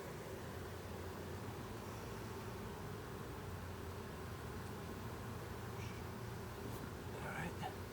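Honey bees buzzing around an open beehive during an inspection, a faint, steady hum with a wide hiss that holds throughout, with no talk.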